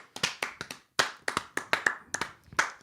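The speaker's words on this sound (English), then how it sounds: "Insert clapping." Bursts of hand clapping used as a podcast sound effect, a few sharp close claps grouped in uneven clusters with short gaps, fairly quiet and without any talking.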